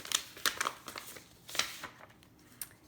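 A mailed handmade card package being opened by hand, with crinkling paper and plastic in close, irregular bursts and a few brief tearing sounds, no talking.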